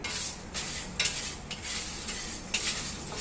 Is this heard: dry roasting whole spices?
yes